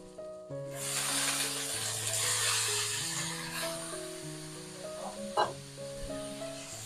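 Beans, carrot and brinjal frying in oil with softened tomato and turmeric powder for sambar rice, giving a steady, fairly loud sizzle throughout, with music playing underneath.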